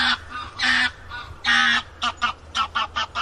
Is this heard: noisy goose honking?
yes